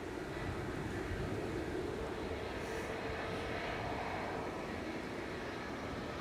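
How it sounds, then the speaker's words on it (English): A Ryanair jet departing Manchester Airport, bound for Ibiza, roars in a steady broadband engine rumble at moderate distance, constant and unbroken throughout. "Ryanair departing now"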